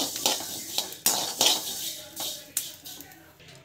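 Vermicelli sautéed in a pan for payasam, with a spoon scraping and clinking against the metal in several sharp, uneven strokes, close and moderately loud.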